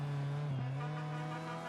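Rear-wheel-drive rally car from the Assetto Corsa Rally game, cornering with a steady, loud engine note held at constant pitch and a brief tire scrub midway, no voices.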